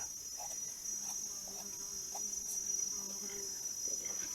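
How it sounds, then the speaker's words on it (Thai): Frogs call in a forest at Nong Chong in Buntharik district, giving low repeated croaks over a constant high insect drone in a steady, moderately distant night chorus. "โอ้โห เสียง"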